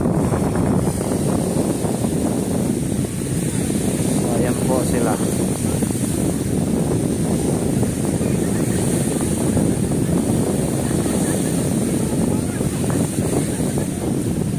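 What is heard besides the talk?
strong wind on the microphone at Manila Bay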